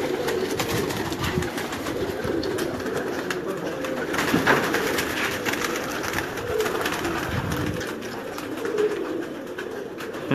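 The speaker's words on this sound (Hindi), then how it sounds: "अभी ये देखिए मैं कबूतर आपको जरा मुख्तलिफ किस्म के सारे दिखा दूं" Pigeons at a Karachi pigeon keeper's loft, their soft cooing woven into continuous busy bird chatter and rustling that runs steadily throughout at moderate level.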